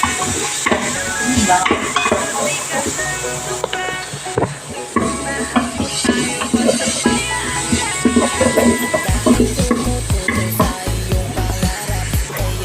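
Onions frying in a pan for a Filipino home-cooked dish, a steady loud sizzle with stirring and scraping against the pan, continuous and close throughout with some clattering of utensils.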